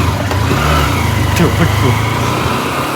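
A motorbike engine pulls and accelerates on the road, giving a loud, close, continuous drone as the revs rise, with a voice talking over it.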